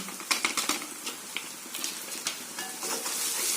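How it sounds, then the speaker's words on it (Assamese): Red chili powder fries in hot oil with whole spices such as cinnamon for a chicken curry. It gives a steady crackling sizzle with scattered spoon and pan clicks near the start. "এতিয়া তেলতে মই এয়া ৰেড চিলি পাউডাৰ অলপ দি দিছোঁ।"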